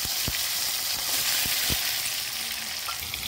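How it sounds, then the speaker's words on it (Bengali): Green chilies and tomato drop into hot oil over fried tempering spices and dried red chilies, making a steady, close sizzle broken by a few sharp stirring taps. "ফোড়ন ভাজা হয়ে গেছে, দিয়ে দেবো কাঁচা লঙ্কা আর টমেটো।"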